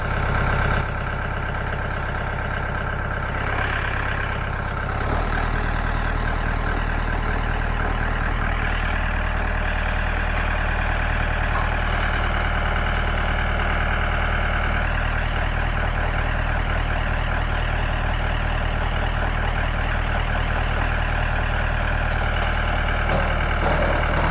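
A heavy truck or machine engine idles steadily at a construction site where walls are being erected, then is given a little throttle and settles into a louder, continuous low rumble.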